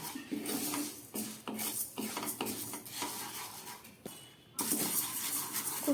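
Dry lentils, about 200 grams, scrape and rattle against a metal pan as they're stirred over low gas flame, with steady scratchy clinks and a faint sizzle throughout.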